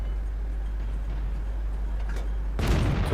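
A tank cannon shot from a KV-1 in a Tier 5 World of Tanks battle sounds as a sudden loud blast near the end, after a quiet stretch of low engine rumble.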